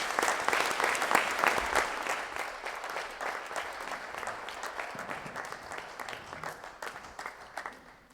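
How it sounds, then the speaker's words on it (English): An audience at a Nordic sommelier competition applauds the semi-finalists, a sustained round of dense, moderately distant clapping lasting several seconds and slowly thinning out. "So one great round of applause for all the semi-finalists."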